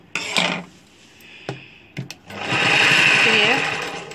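A sewing machine stitches a dhoti shalwar, running in a continuous whirring burr for over a second after a few sharp clicks and taps as the fabric is set in place.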